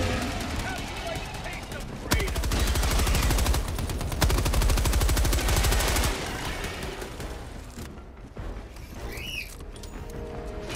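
Sustained rapid gunfire from a sentry gun shooting at swarming bugs in Helldivers 2, dense and loud for several seconds before easing off, with a voice talking over the battle.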